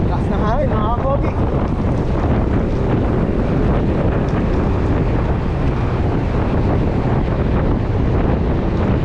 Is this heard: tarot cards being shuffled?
no